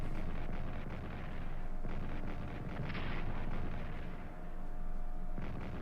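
Artillery fire in the World War I strategy game Strategic Command: World War I, a steady roar of overlapping booms and rumbling bursts that carries on loud throughout with no talking.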